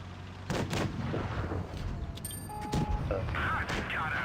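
An M41 Bulldog light tank firing its main gun in a tank battle game: a few heavy booming shots amid engine rumble and clanking mechanical game sounds, moderately loud.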